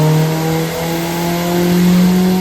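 A 450 HP Ford Focus ST engine revving under boost, a loud, close steady drone with sustained engine tones that dip and rise briefly, no speech.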